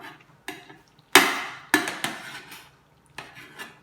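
A young child stirs macaroni and tomato in a pan with a spoon, producing a series of sharp metallic clinks and scrapes at an irregular pace, close and clear with no talking.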